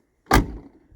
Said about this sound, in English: Here, listen to this door too.